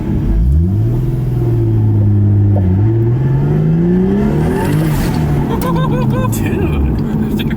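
A Nissan S14 240SX with a single turbo and six-speed drives up close, its engine droning and rising in pitch throughout as worn wheel bearings whine, with people talking over it.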